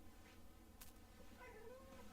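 A house cat gives a short, faint meow indoors, a single brief call over a quiet background hum, with no talking.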